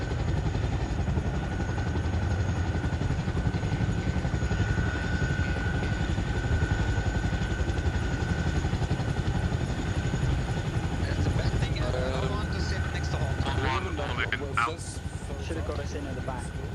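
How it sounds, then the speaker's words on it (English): A military helicopter in the game Arma Reforger flies with a steady, loud rotor drone throughout, while people talk over it toward the end. "we're jumping straight in the helicopter as well"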